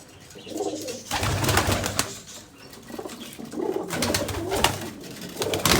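Pigeons coo in low rolling calls amid bursts of flapping wings and rustling, the sounds swelling and easing in waves at close range.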